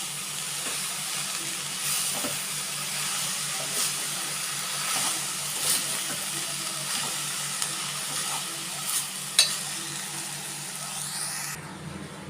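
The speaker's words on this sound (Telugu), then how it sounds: "ఇది బాగా కలుపుకొని బాగా దగ్గరికి అయ్యేంత వరకు ఉడికించుకోవాలి" Amaranth leaves and meal maker cook in a pan with a steady, loud hiss and sizzle, broken by occasional spatula scrapes and clinks, continuous and close.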